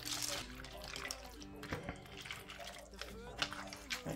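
Ten ounces of elbow macaroni get stirred into water in a cooking pot, with light intermittent sloshes and clinks of pasta and utensil against the pot, beneath a speaking voice.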